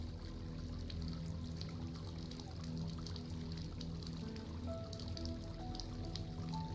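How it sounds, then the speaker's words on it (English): Water flowing at an asylum: a continuous pouring, trickling wash with scattered drips and a faint background hum, steady and moderately close throughout. "Water flowing."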